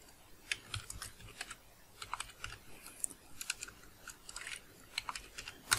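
Someone types a name into a search box on a computer keyboard: quick bursts of close plastic key clicks in uneven clusters separated by short pauses, with no talking.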